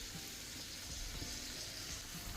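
Minced meat frying with onions in a pan, a steady close sizzle with soft crackles throughout, no voices.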